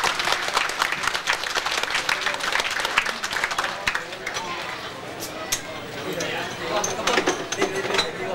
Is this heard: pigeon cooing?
no